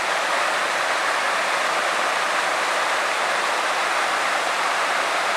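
Steady broadband rush of a creek flowing beside a campsite, loud, close and continuous with no breaks or other sounds over it.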